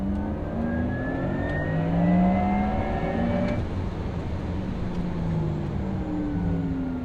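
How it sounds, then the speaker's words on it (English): Simulated exhaust note from a 2020 Porsche Taycan 4S electric car, a steady synthetic engine growl with slowly rising and falling tones. It swells briefly around the middle, holds at a moderate, close level throughout, and plays without any talking. "if you really wanted to hear an exhaust, you could turn on the feature within your settings and you'll get this sound."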